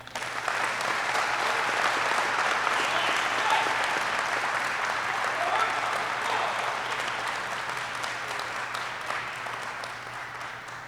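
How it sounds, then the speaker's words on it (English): Round of applause from the audience at a U.S. Army aviation advanced individual training graduation ceremony for graduates receiving their wings and insignia, a dense sustained clapping that slowly tapers in a large hall. "please help me in congratulating these graduates receiving their wings and insignia today with another round of applause"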